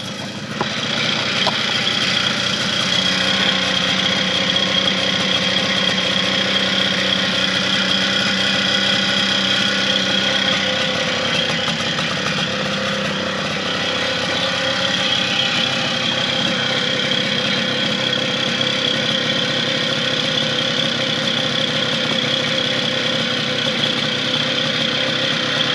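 A 1978 50cc two-stroke motorbike engine idles steadily and continuously at close range, with a constant buzzing drone and a slight low wobble early on, with no voices.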